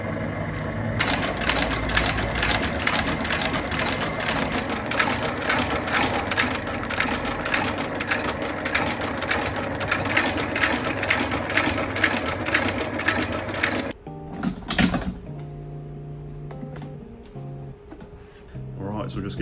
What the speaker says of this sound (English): we just stitch around it like that